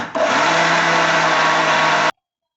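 Mixer grinder whirring steadily as it grinds a dry masala mix before any tomato is added, a loud continuous motor roar for about two seconds that cuts off abruptly.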